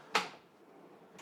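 A kitchen drawer in a tiny house on wheels slides with one quick, close thump near the start, then a softer second bump just over a second later, otherwise quiet.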